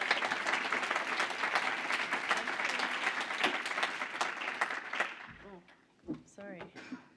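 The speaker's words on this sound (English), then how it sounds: "Let's give her a round of applause." Audience applause for a keynote speaker at a cell agriculture talk, a dense burst of many hands clapping that swells for about five seconds, then thins into scattered claps and a few voices as it dies away.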